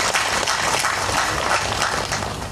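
Dense applause from a crowd at a Pakatan Harapan political rally in Kedah, Malaysia, greeting a speaker. Steady, loud clapping that fills the whole stretch and tapers slightly at the end.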